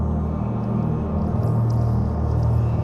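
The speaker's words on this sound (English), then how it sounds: "It's the sound of a nether portal" A Minecraft nether portal gives off a steady, low, warbling hum with a faint whooshing texture, droning continuously and close throughout.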